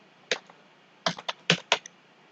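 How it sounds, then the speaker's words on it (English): A Python program is being typed on a computer keyboard: one isolated click, then a quick cluster of sharp keystrokes in an uneven rhythm, close and clear against a quiet room. "start typing the program"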